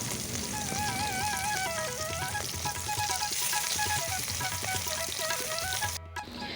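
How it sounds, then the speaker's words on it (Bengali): Egg cakes frying in oil in a pan in a village house kitchen, a steady dense crackling sizzle that runs close and loud throughout, with a brief cut near the end. "ডিমের কেকগুলোকে আমি একটু তেলে ভেজে নিচ্ছি"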